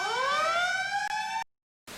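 An ambulance siren wails as it passes, a loud rising and falling tone that cuts off abruptly, followed by a brief burst of sound after a short silence.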